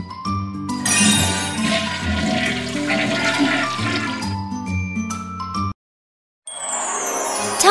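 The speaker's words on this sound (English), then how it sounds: "Push the lever and flush the toilet." A cartoon toilet is flushed with a loud, rushing swirl of water lasting several seconds, with tinkling chime accents. After a brief silence, a bright musical jingle starts.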